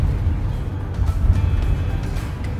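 A 2021 GMC Savana van driving, heard from inside as a steady low engine and road rumble with faint cabin hiss, constant and fairly close.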